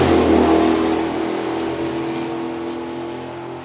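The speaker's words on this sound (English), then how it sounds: "a pair of pickup trucks getting it done right now as Donald Carter and John Dalton will match up" A pair of pickup trucks launches side by side down a drag strip, a loud sustained engine roar that fades slowly as they pull away.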